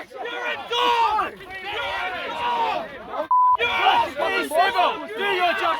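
Angry crowd at a Freedom Day rally shouting over one another during a scuffle over a drone, a dense, continuous wall of overlapping voices close by, broken briefly by a short beep.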